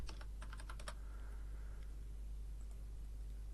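Quick bursts of keystrokes on a computer keyboard clatter close and faint at the start, then stop, leaving a quiet low hum.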